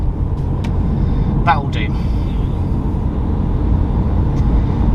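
Road traffic passing as a steady low rumble close by, with brief higher squeaks and a short spoken remark over it.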